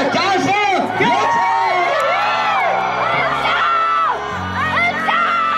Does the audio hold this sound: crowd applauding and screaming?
yes